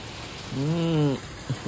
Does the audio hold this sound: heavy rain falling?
yes